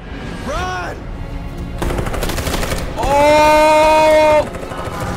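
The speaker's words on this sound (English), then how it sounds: "they're about to start shooting anyways?" Gunfire breaks out in Detroit: Become Human as fast bursts of shots under shouted reactions, growing louder and denser toward the end while a voice keeps exclaiming over it.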